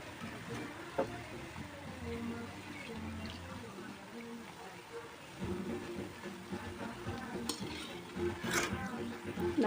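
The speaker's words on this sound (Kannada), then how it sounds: "ಎಣ್ಣೆ ಚೆನ್ನಾಗಿ ಕಾಗಿದ್ಮೇಲೆ ಹಾಕಿದರೆ ಹೀಗೆ ಕುದೀತದೆ ನೋಡಿರಿ" Vada batter made from alasande (black-eyed pea) flour frying and bubbling steadily in hot oil, with a continuous sizzle. Occasional stirring and utensil clinks can be heard, and a voice talks over it now and then.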